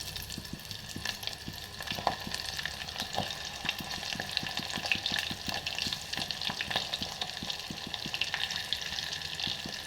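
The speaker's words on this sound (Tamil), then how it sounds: "எண்ணெய் காஞ்சிருச்சு நல்லா. அதில் கொஞ்சம் வெந்தயம், சின்ன வெங்காயம் ஒரு கை போட்டுக்கலாம்." Fenugreek seeds and shallots sizzle in hot oil for a traditional kuzhambu, a dense continuous frying hiss with light stirring, close up and steady throughout with no voices.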